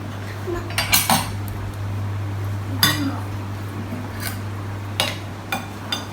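Minced pork filling for stuffed cucumber soup mixed in a bowl, with a few separate metallic clinks and scrapes of utensil against the dish over a steady low hum, close and clear.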